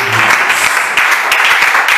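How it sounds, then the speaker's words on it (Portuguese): Church congregation in Belo Horizonte, Brazil, applauding during a worship service, a dense, steady wash of clapping that fills the whole moment without pause. "As palmas que exaltam o nome do Senhor"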